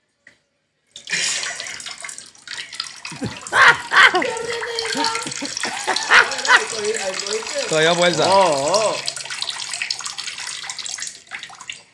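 A stream of urine splashes steadily into toilet water for several seconds, with people talking and exclaiming over it nearby.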